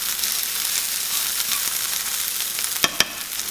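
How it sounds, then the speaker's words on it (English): Squirrel pieces fry in a pan with onions and Swiss chard, a steady close hiss and crackle of hot oil, broken near the end by two sharp utensil clacks against the pan. "Now we're just frying it up."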